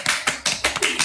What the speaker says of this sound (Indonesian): Efek tepuk tangan, Cip.